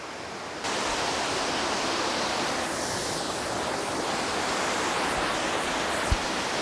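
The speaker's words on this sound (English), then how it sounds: "waterfall!" A waterfall in a hidden oasis along a hiking trail gives a steady, close, full roar of rushing water that continues evenly throughout.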